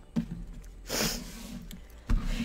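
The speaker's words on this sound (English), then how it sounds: "And I apologize for the sniffles." A few short nasal sniffs from allergies, close and fairly quiet, with a longer breathy sniff in the middle and another sharp one near the end.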